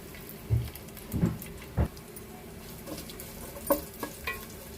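Dried onions frying in oil in a pan, a soft low sizzle broken by a few stirring scrapes and light taps, fairly quiet and with no voices.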